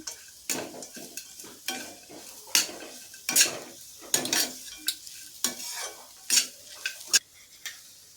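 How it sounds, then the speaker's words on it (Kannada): Coconut rice with added salt is stirred in a pan, a spoon scraping and clinking against the metal in irregular strokes, close and clear with faint sizzling between them. "ಈಗ ರುಚಿಗೆ ತಕ್ಕಷ್ಟು ಉಪ್ಪನ್ನು ಸೇರಿಸಿ ಮತ್ತೊಮ್ಮೆ ಇದನ್ನು ಮಿಕ್ಸ್ ಮಾಡ್ತಾ ಇದ್ದೀನಿ"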